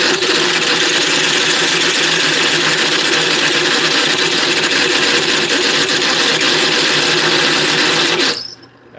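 A drill bores through metal to enlarge holes for larger ARP 100-7703 wheel studs, giving a loud, steady grinding whine close by that runs unbroken for about eight seconds before cutting off abruptly.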